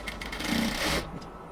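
Sewing machine stitching the lower border of a cotton kameez, adding a thin black piping edge; a brief, close whirring run of rapid stitching that stops after about a second.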